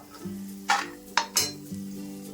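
Ingredients frying in a pan are stirred with a metal utensil over a low sizzle. The utensil knocks and scrapes against the pan a few times, close by and with no talking.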